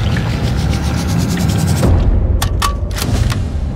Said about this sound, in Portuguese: Elimine Hitler com tiro no testículo